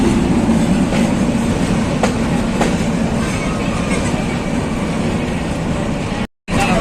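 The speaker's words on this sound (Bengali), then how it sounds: "শ্যামপুর বড়ইতলা স্টেশন থেকে যাত্রা বিরতি শেষে ট্রেন ছুটে চলেছে" A Narayanganj commuter train runs on after a halt at Shyampur Boraitola station, near the Padma Bridge rail line, giving a loud, steady rumble and rattle of carriages that holds throughout, broken only by a brief dropout near the end.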